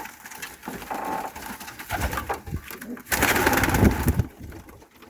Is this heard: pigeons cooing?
yes